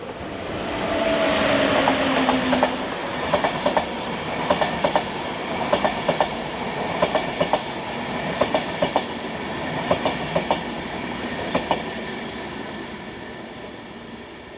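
A class 1116 electric locomotive hauling a Vienna-bound railjet rolls into Golling station, with a loud, steady rumble and a long run of rhythmic clickety-clack wheel beats over rail joints, fading slightly toward the end.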